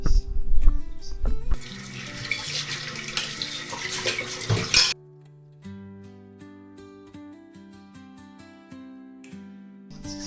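Water runs loudly from a tap for a few seconds, a close rushing spray, then cuts off abruptly as music continues alone.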